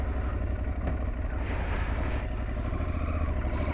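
An Aprilia Tuareg 660 adventure motorcycle pulls away, its engine droning steady and close with heavy wind buffeting across the microphone.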